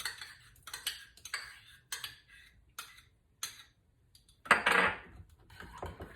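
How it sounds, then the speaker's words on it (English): A spoon stirs minced garlic into a thick herb mixture for salmon, knocking and scraping against the bowl in a run of quick, close clicks, with one louder scrape near the end. "Give it a stir"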